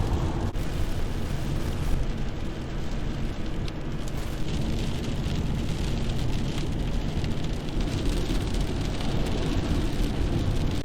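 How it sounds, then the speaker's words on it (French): Heavy rain shower pouring down steadily, a dense, continuous hiss and rumble that stays loud and unbroken throughout, with no voices. "bonne averse"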